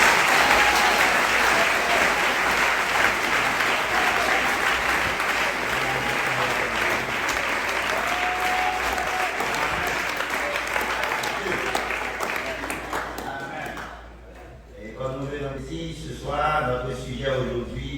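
Sustained, loud applause from a congregation at a church service, steady for most of the stretch and then tapering off as a voice starts speaking near the end.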